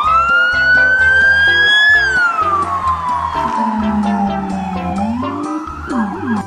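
A toy police pickup truck's electronic siren wails loud and close, its tone sweeping up then gliding down and rising again, layered over a repeating synthetic jingle of beeping notes.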